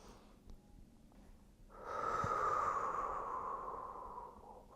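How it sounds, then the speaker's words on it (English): A single deep, slow breath during a morning yoga session, drawn in as a long, steady, airy whoosh lasting a few seconds and fading gradually, close and fairly quiet. "We're gonna take 5 deep breaths here."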